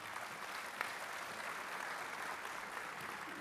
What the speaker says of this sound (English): And I would be remiss if I didn't ask for another round of applause for Mr. Richard Fries